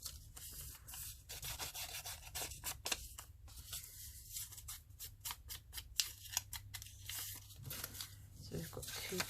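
Paper torn by hand for a collage gives repeated short ripping and rubbing bursts in an irregular rhythm, close and fairly quiet, with soft handling noises between the tears.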